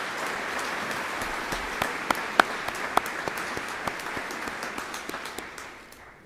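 Sparse applause from a graduation audience honoring students, individual claps popping distinctly over a soft wash of clapping that thins and fades out toward the end.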